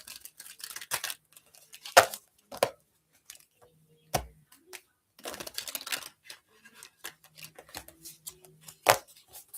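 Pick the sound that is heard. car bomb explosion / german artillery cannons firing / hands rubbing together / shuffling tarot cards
shuffling tarot cards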